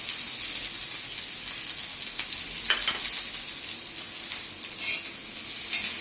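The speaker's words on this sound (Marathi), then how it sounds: "कांदा असा परतून घ्यायचा" Chopped onion sizzles steadily in a modest amount of oil in a pan, a continuous bright frying hiss with occasional stirring scrapes, close and alone with no talking.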